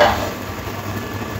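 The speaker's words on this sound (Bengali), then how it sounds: "ঝোলটা ফুটে উঠেছে, মাছগুলো দিয়ে দেব।" Pieces of fish drop into a boiling vegetable fish curry broth, giving a brief, close burst of bubbling and sizzling that quickly settles into a steady simmer.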